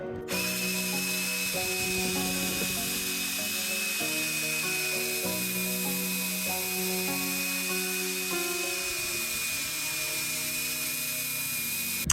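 A power drill fitted with a scrub brush whirs continuously against a filthy floor mat, a steady high-pitched motor whine with a shifting lower scrubbing tone, close and fairly loud, with no talking.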